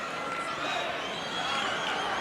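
A packed arena crowd at the 1981 NCAA basketball national championship game between Augustana and Potsdam keeps up a dense, steady roar of cheering and chatter at close range throughout.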